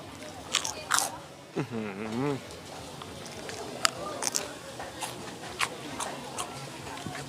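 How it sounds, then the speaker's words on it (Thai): Crispy fried pork belly in a spicy Thai salad being bitten and chewed up close: sharp crunchy cracks and crackles repeat steadily, with a brief voiced sound from the eater partway through. "เราดูหมูกรอบ ฟังเสียงกรอบไหม กรอบไหม"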